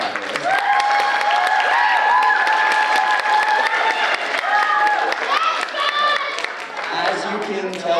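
Audience applause and cheering at a middle school winter choir concert, a loud, dense crowd that keeps going steadily for the full stretch while voices and singing tones carry over it.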